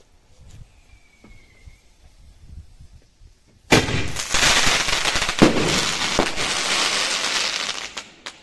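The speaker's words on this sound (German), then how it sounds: "So, und jetzt als zweites Salut Knallstern." Pyroland Pech & Schwefel Salut Knallstern firework bomb fired from a tube: after a quiet lead-in, a loud burst erupts into dense, sustained crackling and popping of many small stars for several seconds, close and alone.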